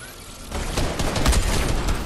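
Video game gunfire, a dense sustained burst of rapid shots that swells after a quieter start and stays loud to the end.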